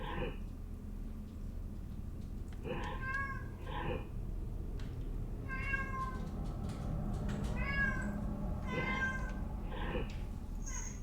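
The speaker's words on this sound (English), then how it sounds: "Hear my cat yelling at everybody." A house cat meowing several times in clear, drawn-out calls, some in quick pairs, over a constant low background hum.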